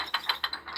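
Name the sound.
model train brake wheel being tightened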